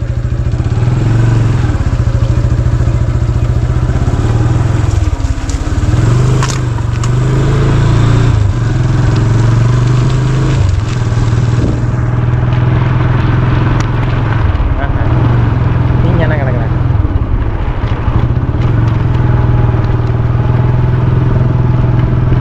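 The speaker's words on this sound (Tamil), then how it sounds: "நாங்கள் வந்து வண்டி எடுத்துகிட்டு ஒரு ரவுண்டு போக போகிறோம்" Motorbike ridden around an abandoned site, its engine droning loud and steady close by for the whole stretch with rattling and shifts in pitch, and a voice talking over it.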